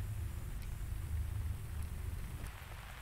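Steady rain in the video game Myst Online: Uru Live, a faint, even hiss of falling water with low rumble underneath, continuous and alone for a few seconds.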